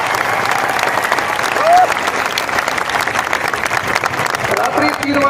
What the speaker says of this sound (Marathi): टाळ्या जोरात झाल्या पाहिजे